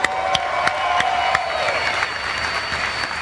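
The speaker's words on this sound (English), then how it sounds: "Round of applause for Vin Diesel," Crowd applause for Vin Diesel at a Dodge Challenger SRT Demon launch event, a broad burst of clapping with a few cheers and a faint tone, close and steady.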